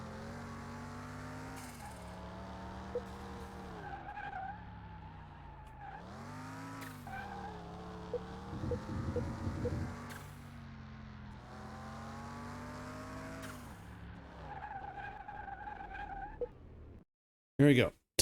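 Engine revving and tires squealing as a car skids around a test track in the Car Mechanic Simulator 2021 game, steady engine drone with rising and falling pitch and a burst of skid noise midway, then a short loud blip at the end.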